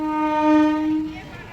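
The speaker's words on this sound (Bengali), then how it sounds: "ট্রেন দাঁড়ানো, হর্ন দেবে এক্ষুনি।" A horn sounds from a train standing still at a station, a loud sustained harmonic blast lasting about a second before it cuts off and leaves background murmur.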